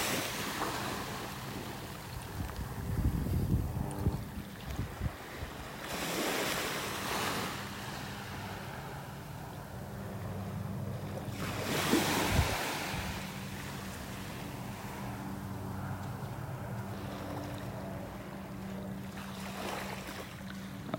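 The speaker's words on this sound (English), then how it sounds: "Got a mile of beach here." Ocean waves roll onto the beach at Delnor-Wiggins Park, a soft continuous wash with several gentle surges breaking every few seconds, heard faintly from the shore with some wind buffeting.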